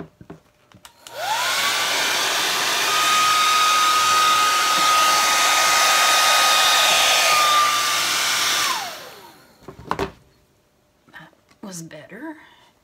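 A hair dryer roars steadily for about seven seconds, blowing acrylic paint across a Dutch pour painting, then cuts off, followed by brief handling noises and a quiet voice.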